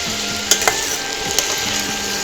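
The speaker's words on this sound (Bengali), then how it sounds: "এবার আলু ভাজা হচ্ছে।" Sliced potatoes fry with turmeric in a pan for fennel potato bhaja, giving a steady, close sizzle with a few sharp clicks and pops scattered through it.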